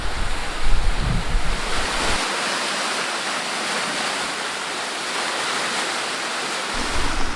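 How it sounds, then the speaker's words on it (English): A waterfall beside a cave on a bikepacking route, a loud, steady rushing roar of falling water heard close, mixed with gusty wind buffeting the microphone. "I can see the waterfall."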